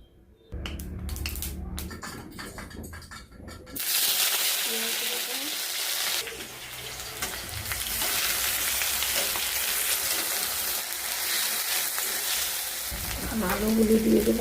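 Oil heats and sizzles in a wok, a steady loud hiss that swells after a few quiet opening seconds of clatter, with faint stirring near the end.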